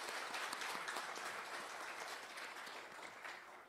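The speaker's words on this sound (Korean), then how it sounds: "그리고 우리 하나님께 영광의 박수를 돌립시다." A Korean church congregation gives a soft, even round of applause during a worship service, a steady rain of many hands clapping that sounds somewhat distant and fades a little toward the end.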